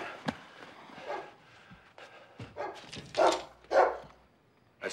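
A dog barks in short, sharp bursts with gaps between them, fairly close and loud, giving several yips and barks over a few seconds.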